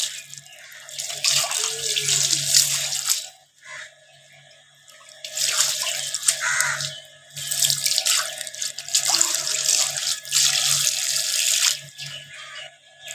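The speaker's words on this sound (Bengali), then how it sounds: "আমটা ধুয়ে নিই" Home-grown mangoes are rinsed under a running kitchen tap, with water gushing and splashing into a sink in three long bursts separated by brief pauses, close and clear, with no talking.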